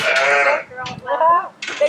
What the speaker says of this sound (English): So now we're gonna meet the sheep.